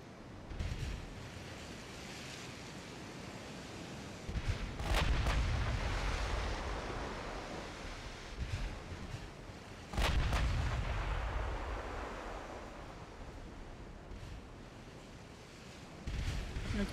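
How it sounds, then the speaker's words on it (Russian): Naval guns fire armor-piercing shells in Ultimate Admiral Dreadnoughts: several deep, distant booms, two close together and another a few seconds later, each rolling off slowly over a constant bed of ocean surf and wind. "Теперь они стреляют по нам бронебойками."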